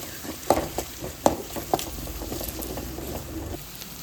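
Steady sizzle of ground masala frying in oil, with a spoon stirring and knocking against the pan a few times, close by and moderately loud.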